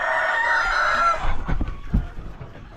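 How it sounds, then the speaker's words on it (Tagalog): A rooster crows loudly, then hens cluck in short, uneven bursts close by, with livestock shuffling in the background, on a farmyard surrounded by floodwater. "nakasafe na yung mga manok natin"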